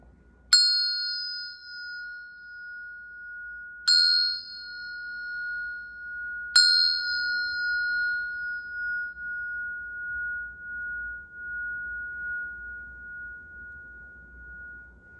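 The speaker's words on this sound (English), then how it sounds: "I'll hit the bell 3 times." A meditation bell is struck three times, each a clear ringing strike spaced a few seconds apart, with a long sustained tone that decays slowly over a faint low background.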